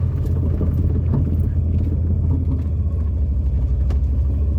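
A 1978 Pontiac Sunbird Formula, stock and parked for ten years, runs and drives through its gears, a close, steady low engine rumble with a slight rough pulse throughout.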